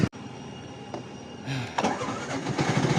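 An auto-rickshaw engine starts close by with a sharp crank burst, then settles into a loud, rough, mid-pitched idle that grows busier and revs slightly, with no talking.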